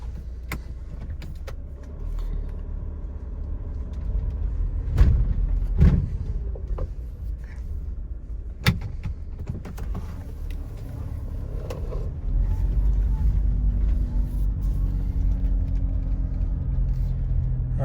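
Mitsubishi ASX with a flashing traction control and ABS warning, unable to exceed 5 mph, driving in first gear: low engine and road rumble building steadily with a few clicks and knocks inside the cabin.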